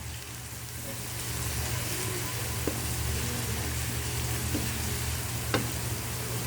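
Garlic fries in oil pooled to one side of a tilted pan, a steady close sizzle with a few sharp clicks of stirring.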